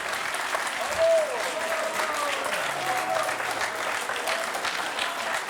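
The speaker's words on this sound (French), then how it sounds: "tout le public de Questions pour un champion applaudit à ce match incroyable" A studio audience on the French quiz show Questions pour un champion applauds in a steady, sustained round of clapping that fills the room at moderate loudness.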